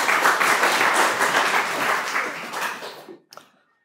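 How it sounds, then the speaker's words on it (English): An audience breaks into applause, a thick, even roar of many hands clapping close by that holds steady, then cuts off abruptly with a few last stray claps before silence. "Everyone give him a round of applause."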